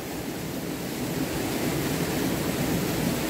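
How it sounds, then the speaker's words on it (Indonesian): A stream pours steadily near a small waterfall by a pool, a dense constant rush of water that stays close and even, with no voices over it. "ini aliran besarnya ya"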